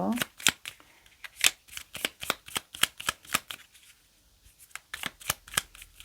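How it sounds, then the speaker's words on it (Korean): Paper message cards shuffled by hand in quick, crisp riffling bursts, close and fairly loud, with a brief pause midway before the rapid flicking resumes. "메시지 카드 3장 뽑을게요."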